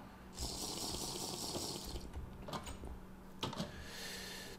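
Drinking water in the farming video game Farming Valley, heard as a steady running, splashing water sound that fills most of the moment, with a couple of brief clicks near the end.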